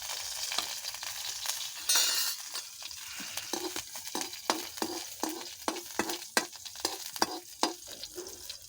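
Green chilies and cumin seeds sizzle in hot oil while fried rice is cooked the Chhattisgarh way. A steady, close frying hiss runs throughout, with sharp clinks and scrapes of stirring in the pan and no talking.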